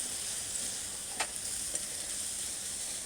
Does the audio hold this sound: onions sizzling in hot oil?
yes